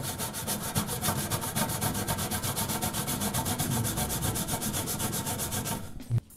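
Burnt-on grease gets scrubbed off a microwave's grill in quick, regular back-and-forth strokes, a rasping rhythmic scrape that stays close and loud, then stops abruptly near the end.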